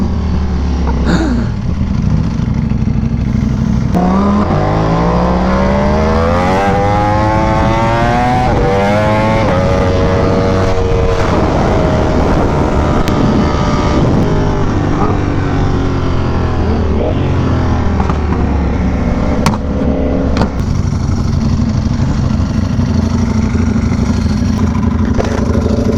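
A loud Ducati Panigale V4R motorcycle engine roars continuously, its pitch sweeping up and down as it revs, with rattling mechanical clatter throughout.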